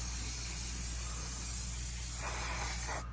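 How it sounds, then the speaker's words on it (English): Aerosol mold release sprayed onto resin fishing lure molds, a continuous close hissing spray over a low hum that stops abruptly near the end. "we're going to spray the molds down with some mold release"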